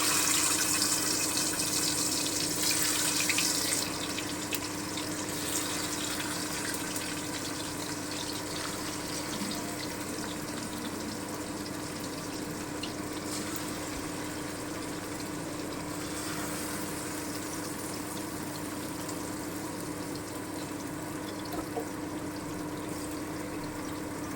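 Raw hilsa fish pieces are slipped into a hot pan with mustard oil on low heat. A steady, continuous hiss and sizzle runs close and even throughout, louder at the start, with no talking.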